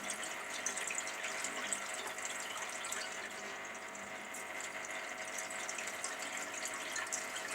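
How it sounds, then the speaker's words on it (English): Record cleaning fluid drips and trickles steadily through a funnel, a continuous close watery hiss and patter with no pauses and no speech. "Just let that drip into there again. By running it through that funnel I can recover the fluid."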